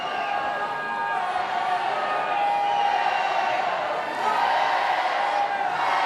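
Crowd at a women's rugby match between Wales and Italy cheering and roaring late in the game, a steady, swelling wall of voices with occasional whoops, distant and continuous.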